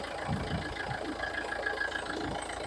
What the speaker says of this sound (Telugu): ఇంజన్ సౌండ్ చూసుకోవచ్చు మీరు ఒకసారి.